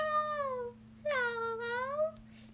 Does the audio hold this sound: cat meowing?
yes